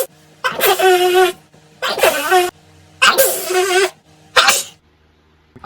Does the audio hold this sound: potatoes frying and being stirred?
no